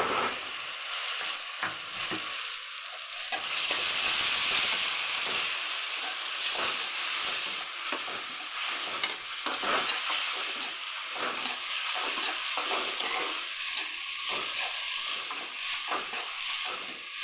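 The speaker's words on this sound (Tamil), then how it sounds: "அதனால் கொஞ்சம் நேரம் எண்ணெயில் வதக்கணும் நல்லா" Karamani kara kulambu paste sautés in oil with a steady sizzling hiss, broken by repeated scraping and stirring strokes of a spoon, close up and continuous with no talk.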